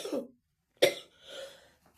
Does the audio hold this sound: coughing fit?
yes